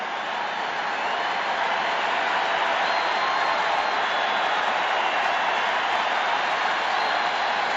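Baseball stadium crowd at a 2004 NLCS playoff game between the St. Louis Cardinals and Houston Astros, a dense, steady roar of cheering and applause rising as the count reaches two strikes, sustained throughout with no clear voices.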